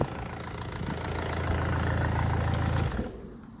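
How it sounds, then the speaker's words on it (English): Old diesel engine of a Rover 75 / MG ZT car idling loudly with a steady low rattling rumble that swells slightly, then drops away as it is switched off. "Obviously it's quite loud, old diesel"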